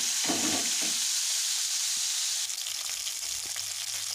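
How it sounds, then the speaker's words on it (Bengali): Pieces of catla fish frying in hot mustard oil, a continuous soft sizzle and crackle with a few brief stirring knocks early on, steady and close throughout. "মাছগুলো এখন লাল লাল করে ভেজে নিচ্ছি"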